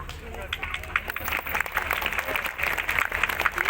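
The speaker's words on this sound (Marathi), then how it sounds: "सगळ्यांसाठी जोरदार टाळ्या झाल्या पाहिजेत." Audience applause at a stage event honouring performers who portrayed historical figures in Kedgaon, Ahmednagar: steady broadband clapping from a crowd, mixed with murmuring voices, continuing evenly throughout.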